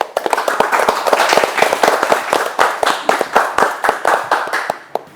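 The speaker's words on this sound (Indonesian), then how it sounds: "Oke, makasih, tepuk tangannya." Lively clapping from a podcast audience, with sharp, uneven hand claps close and loud throughout, thinning out toward the end.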